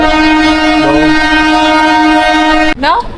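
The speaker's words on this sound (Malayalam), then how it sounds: "നമ്മൾ ട്രെയിനിന് വേണ്ടി വെയിറ്റ് ആണ്" A train's steady, loud horn blares with layered tones for nearly three seconds, then cuts off sharply as the rumble shifts.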